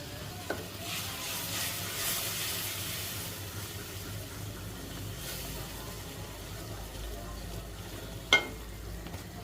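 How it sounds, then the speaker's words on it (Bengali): Turmeric, chili and fish masala fry in a pan for small fish with raw mango, a soft continuous sizzle with light stirring scrapes and a single sharp clank near the end. "আমার হলুদ মরিচগুলো কষানো হয়ে গেছে ভালো করে"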